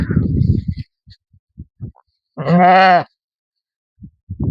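A sheep with a swollen udder gives one loud, close, wavering bleat midway, set among soft scattered knocks and shuffles from the pen.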